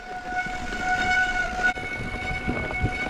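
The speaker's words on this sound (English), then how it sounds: "we're using brakes today" Bike brakes squeal steadily with a sustained high-pitched tone on a mountain descent toward Spruce Lake in the South Chilcotin, loud over rumbling wind and trail noise for about three seconds.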